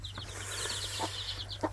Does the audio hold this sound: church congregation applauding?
no